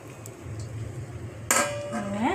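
A cooking pot of mushroom biryani is uncovered after simmering, a sharp metallic clink of the lid followed by a ringing scrape, close and brief.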